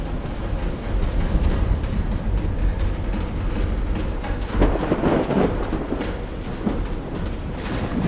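Thunderstorm in Call of the Sea, with steady rain and deep rolling thunder rumbling throughout, swelling to a heavier crack midway before settling back into a constant downpour.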